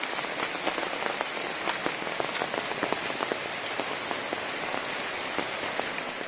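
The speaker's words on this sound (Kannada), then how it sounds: "ನೀರಿನ ಶಬ್ದ ಕೇಳ್ತಲ್ಲ" Heavy monsoon rain on the Karavali coast patters steadily in close, scattered drops against a constant hiss of falling and running water, with no voices.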